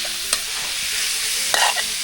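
Pork pieces stir-fried in a pot, with steady sizzling and scraping stirs over about two seconds, including a couple of louder clattering stirs, close and with no talking.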